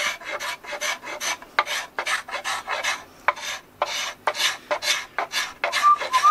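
Rasp filing the wooden body of a thru-neck bass guitar, a run of close, loud scraping strokes in an uneven back-and-forth rhythm with short gaps between them.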